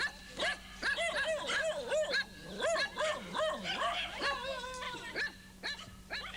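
Several village dogs in a Kenyan village barking and yipping in an irregular run of sharp, fairly close barks, some overlapping, with a few whimpering yelps between them.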